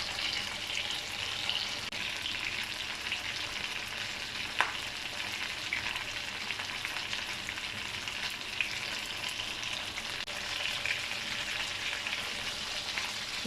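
Chicken malai boti on skewers frying in a pan until lightly golden, a steady close oil sizzle that holds evenly throughout with a couple of faint clicks and no talking.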